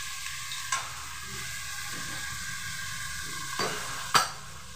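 Chicken frying with spices in a pan, a constant soft sizzle broken by a few sharp scraping stirs of a utensil against the metal, close and unaccompanied by speech.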